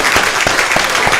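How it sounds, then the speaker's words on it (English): Audience applause rings out at a live talk, a steady crowd clapping that holds at one level for the whole second, with a few sharper claps standing out from the dense wash. "I need a big round of applause for him because he's bold."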